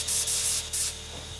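A Harder & Steenbeck Evolution Silverline 2-in-1 airbrush sprays in three short close bursts of bright airy hiss, each stopping sharply, before fading to quiet background.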